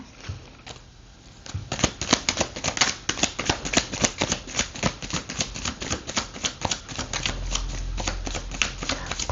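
Tarot cards are shuffled and handled close up, a dense, rapid patter of crisp card flicks and riffles that runs almost without pause.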